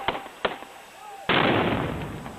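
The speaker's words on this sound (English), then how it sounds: "He fires 3 shots." Sniper gunshots ring out at a political rally as the gunman closes in on the crowd: two sharp cracks at a distance, followed by a sudden loud burst of noise that stays roaring and slowly fades.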